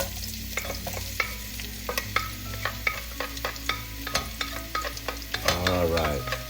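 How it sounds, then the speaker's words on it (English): Ginger, onion and chopped garlic sauté in a hot pan, with a steady frying sizzle broken by repeated scrapes and clacks of a stirring utensil, close and fairly loud, with no talking. "Gonna saute our aromatics, our ginger, our onion, and chopped garlic until they releases its flavors."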